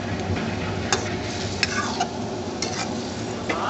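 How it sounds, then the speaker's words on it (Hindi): Beef namkeen gosht stirred and searing over a high flame, a steady dense sizzle with scattered scraping clicks of a spoon against the pot, close and loud, no voices. "इसकी भुनाई करनी है आपने फुल फ्लेम से"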